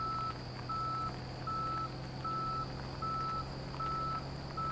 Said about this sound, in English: Whose car makes the beeping noise?